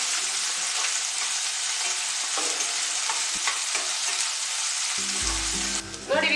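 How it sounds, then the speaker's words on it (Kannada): Tomato, onion and green chilli frying in a pan for a home-style avarekalu mutton keema gojju, a loud continuous sizzle with a stirring scrape, ending in a brief low hum. "ಟೊಮೆಟೊ, ಈರುಳ್ಳಿ, ಹಸಿಮೆಣಸಿನಕಾಯಿ ಚೆನ್ನಾಗಿ ಫ್ರೈ ಮಾಡ್ಕೊಳ್ಬೇಕು."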